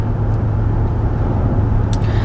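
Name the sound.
car driving on the road, interior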